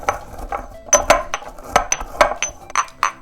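Spices ground in a mortar with a pestle, steady rhythmic grinding and clinking strokes repeating closely throughout, near and fairly loud with no talk.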